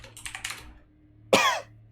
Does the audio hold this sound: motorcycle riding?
no